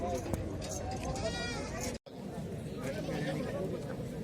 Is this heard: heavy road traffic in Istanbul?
no